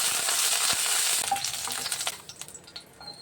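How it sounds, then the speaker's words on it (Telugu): Cumin and green chillies frying in oil for naleru pachadi, a loud close hiss that fades after a couple of seconds into quieter crackles and a few utensil knocks. "కొద్దిగా జీలకర్ర, నూనె పోసుకుందామండి. ఇప్పుడు సరిపడా పచ్చిమిర్చి"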